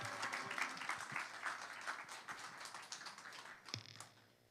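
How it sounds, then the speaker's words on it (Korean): A church congregation applauds during a Sunday service, a dense patter of clapping that carries on for several seconds before tapering off. "우리 큰 박수로 우리 할렐루야로 우리 환영하도록 하겠습니다"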